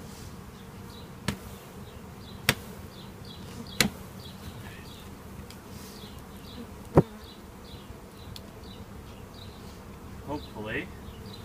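Honey bees buzzing steadily during installation of two bee packages outdoors, a continuous close hum with a few sharp knocks and clicks, and a person speaking briefly.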